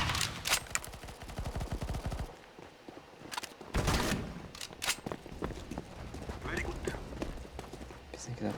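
Gunfire in Counter-Strike: Global Offensive comes in bursts of rapid, sharp shots with pauses between them, close and loud, mixed with other game noise and a voice talking over it.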